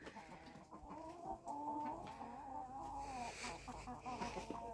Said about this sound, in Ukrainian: ти подивись на цих курей